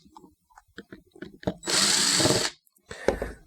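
A power driver whirs for about a second while backing Phillips head screws out of the back plate of a magnetic drive brewery pump, with a shorter second burst, between faint handling clatter and brief talk.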